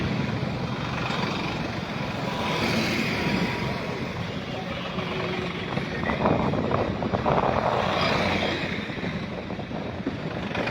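Many tractors drive together in a tractor march rally in Bhadra, a dense, continuous engine rumble blended with wind noise, with voices talking over it.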